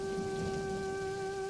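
A steady, continuous hiss of rain falling as a sound effect in an animated tale, with sustained tonal music underneath and no talking.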